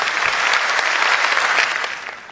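Audience applause at a mushaira poetry recitation, a dense, steady wash of clapping from a crowd that carries on loudly and fades slightly at the end.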